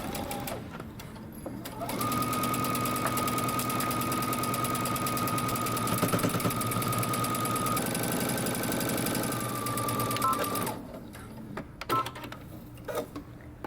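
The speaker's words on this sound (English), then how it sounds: "we're going to start sewing at the hem all the way up to the arm, underarm, and then down our sleeve" A sewing machine runs a dress side seam from hem to underarm and down the sleeve, one long steady stretch of fast, even stitching, with brief quieter handling before and after.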